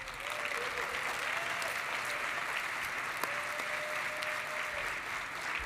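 A conference audience gives a sustained round of applause, dense and even from start to finish, with a faint whistle or tone drifting through the clapping.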